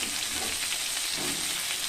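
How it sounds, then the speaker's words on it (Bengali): Potatoes and pointed gourd frying in oil in a pan, a steady, close hiss and crackle of sizzling with no voices. "আলুগুলোকে একটু ভেজে নেব"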